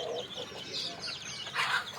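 A backyard country chicken clucks in a few short, soft bursts nearby, with quiet ambient noise between the calls.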